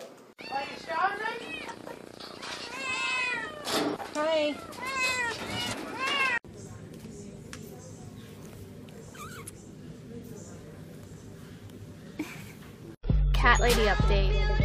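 A cat meows in a series of rising and falling calls, close and fairly loud, broken by a sudden cut to a quieter stretch and then a louder burst at the end.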